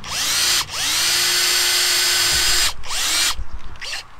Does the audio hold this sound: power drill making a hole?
yes